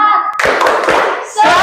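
A classroom group led by a student does a rhythmic 'tepuk semangat' spirit clap, a burst of close, dense hand claps following a brief voice, with another voice coming in at the end.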